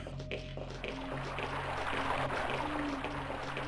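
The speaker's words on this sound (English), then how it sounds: "It's kind of rushing water." A steady, moderately loud wash of rushing water fills a scene in the Overblood video game, continuous throughout with faint tonal game sounds layered over it.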